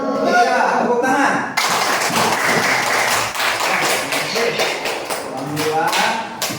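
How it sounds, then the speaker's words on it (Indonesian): Fourth-grade schoolchildren in a classroom clap their hands together: a burst of many small hands starting partway through, mixed with excited children's voices and chatter. "Iya, tepuk tangan."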